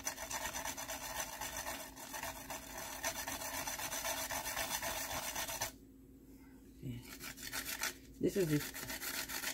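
Whole nutmeg scraped against a grater for Guyanese-style black and white pudding: a steady, close rasping rub that runs for several seconds, pauses briefly, then resumes in short strokes.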